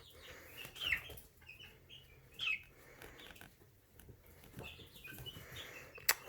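A chicken meeting a dog gives a few faint, sparse clucks and chirps in a quiet room, with soft thumps and rustling between them.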